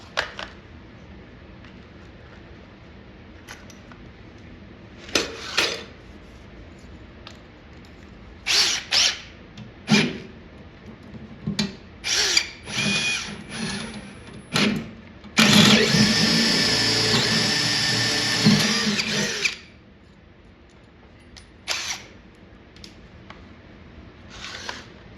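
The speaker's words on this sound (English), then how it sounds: "now we need to drill out this bottom lock" A 1/4 inch bit drills out the bottom lock of a Pole Position arcade cabinet, a loud sustained whine of about four seconds following several short bursts of drilling and tool handling.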